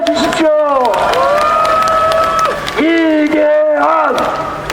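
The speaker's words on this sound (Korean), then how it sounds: "뜨거운 박수로 환성을 해 주십시오" A crowd at a Seoul campaign rally in Dongjak cheers and applauds a candidate. Sustained, pitched chanting and shouting voices dominate over background clapping and crowd noise.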